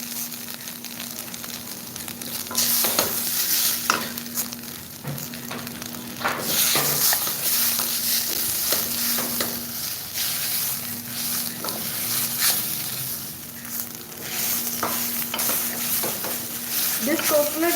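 Grated coconut being dry roasted in a pan and stirred, a continuous crackling sizzle with repeated scraping strokes of a spoon against the metal and a faint steady hum underneath, close-up throughout.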